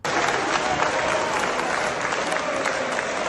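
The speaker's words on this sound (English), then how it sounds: "Members of parliament applauded for this." Members of the Ukrainian parliament applaud in a chamber, producing dense, sustained clapping from many hands that continues steadily throughout with a faint crowd murmur underneath.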